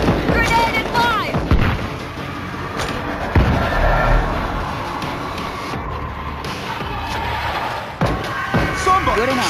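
Gunfire and a grenade blast in the World War Z video game, with rapid shots and heavy thumps layered over a dense, noisy battle mix while voices talk throughout.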